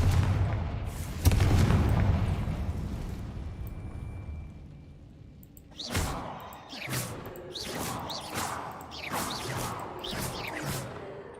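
Magic spell blasts from Confringo and Bombarda cast in Hogwarts Legacy, a heavy rumbling boom up front, then a run of sharp, punchy explosive bursts in quick succession, loud and without speech.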